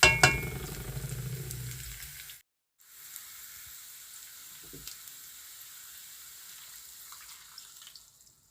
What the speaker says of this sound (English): I will allow it to fry for 2 minutes more